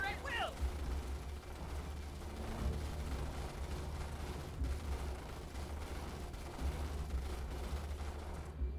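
Rapid small-arms and heavy weapon fire from a squad battle in the Starship Troopers: Terran Command strategy game, a dense continuous clatter of shots with mechanical rattles under steady battle noise.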